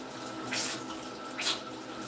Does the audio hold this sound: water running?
yes